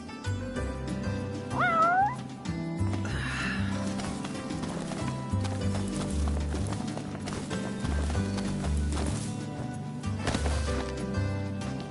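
Cat meowing in Final Fantasy XV, a short rising meow near the start over a background of repeated hoof clip-clops and music, moderately loud and alone without talk.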